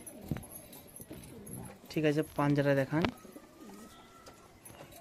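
Pet pigeons of a Madrasi breed coo close by in a few short, throaty bursts, while someone talks over them throughout.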